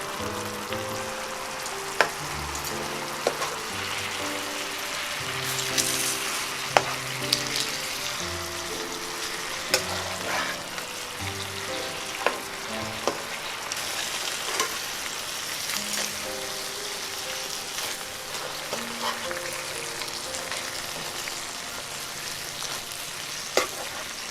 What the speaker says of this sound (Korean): 불은 중간보다 조금 약한 불로 해서 이렇게 졸여주겠어요.